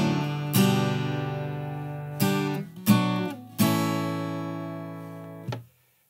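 Acoustic guitar plays the pre-chorus of a pop song as four single strums on separate chords, each ringing out clearly and decaying before the next, alone and close with no talking.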